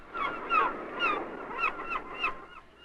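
Seagulls calling, a series of about six or seven squawking honks at a moderate distance, repeated in an uneven rhythm.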